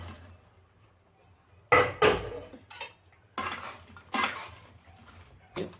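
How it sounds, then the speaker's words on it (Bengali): Veg manchurian balls tipped into a kitchen pan, heard as a few sharp clinks and clatters of metal cookware in separate bursts against a quiet background. "এবারে মঞ্চুরিয়ানগুলো ঢেলে দিলাম।"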